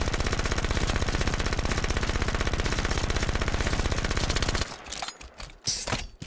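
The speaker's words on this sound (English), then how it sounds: "There's an 84 round SMG in this game." Rapid automatic fire from an 84-round SMG in Halo 4, a dense, steady stream of loud shots for about four and a half seconds, then cutting off into scattered fainter game sounds.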